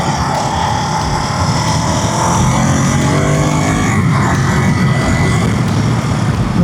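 A Ducati Monster naked sports bike on the move, its engine a steady, continuous roar blended with wind rush, loud and unbroken throughout, with no talking.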